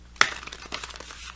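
A deck of oracle cards being shuffled close by, opening with a sharp papery snap followed by a run of soft, crinkly card rustles and flicks, with no voices.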